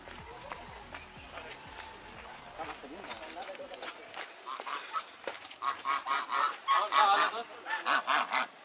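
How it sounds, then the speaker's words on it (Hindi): Geese honking repeatedly at a park beside Khandoli Dam in Jharkhand, the calls growing louder and more rhythmic in the second half, with people talking over the start. "देख सकते हैं ये जो पक्षी है हम लोगों से कुछ कहना चाह रही है"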